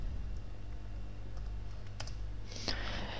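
Typing on a computer keyboard while working in AutoCAD gives a few faint scattered key clicks and then a sharper burst of taps near the end, over a steady low hum.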